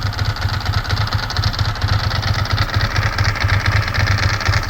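A 2002 Ducati ST4s motorcycle engine idles close by, a loud, steady, lumpy pulsing with a quick, even beat and no voices.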